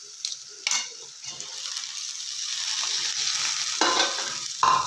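Fried green beans being stirred in a pan over medium heat, a steady sizzle with scraping spoon strokes and a few sharper clicks against the pan, close and alone.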